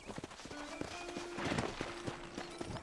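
Horse hooves in the Red Dead Redemption video game, a quiet, irregular clip-clop of a horse moving at a walk, faint and fairly distant with no talk.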